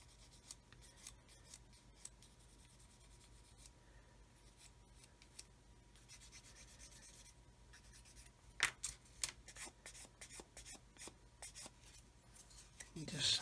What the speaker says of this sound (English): I'm just going to scrape away that seam